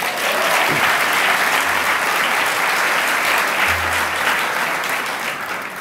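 Crowd applause during the Orlando mayor's 2018 State of the City address, a broad, sustained roar of clapping from a large audience, loud and even from start to finish.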